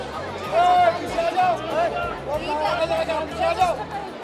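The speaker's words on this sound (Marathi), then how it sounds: "बघू शकता आपण, खूपच गर्दी झाली आहे." Dense crowd of visitors milling around Janjira sea fort, a steady hubbub of many overlapping voices and chatter, close and continuous for a few seconds.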